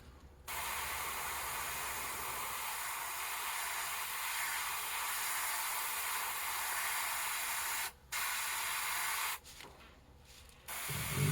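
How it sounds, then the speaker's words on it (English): A fine detail airbrush sprays paint along the thin top line of a small custom crappie fishing lure, a steady close hiss running almost continuously with a few brief pauses near the end. "When I go over a thin top line like this, the fine detail airbrush really comes in handy."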